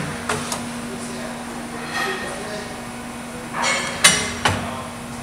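A Duplo DB-250 perfect binder mills, glues and nips a book. A low machine hum runs under scattered mechanical clunks and rattles, with a few sharper knocks near the end.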